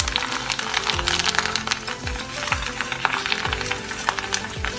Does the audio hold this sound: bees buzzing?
no